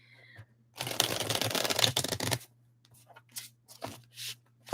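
A deck of tarot cards is shuffled up close in a quiet room, a dense riffling burst lasting over a second, followed by softer scattered taps and card slides.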